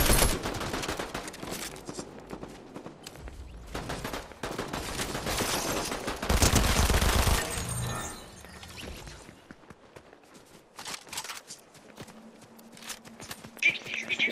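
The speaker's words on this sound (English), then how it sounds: "Somebody else shooting" Rapid bursts of gunfire in a Fortnite trios match, dense volleys of shots clustered together with a few quieter gaps, loud and close, with players talking over it at times.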